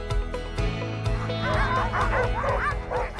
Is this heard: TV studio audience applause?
no